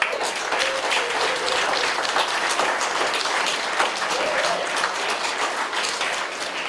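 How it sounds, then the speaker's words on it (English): Crowd applause at a community birthday celebration for a reverend, with people clapping for their neighbors; a sustained, full roar of clapping that stays loud and even the whole way. "Give your neighbor a round of applause."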